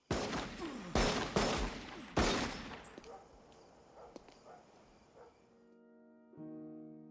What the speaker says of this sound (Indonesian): Tommy malah langsung ditembak mati sama Hadley yang diam-diam sembunyi di ruangan itu